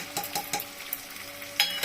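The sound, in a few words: stirring salt, turmeric and Kashmiri chili powder in pan for egg curry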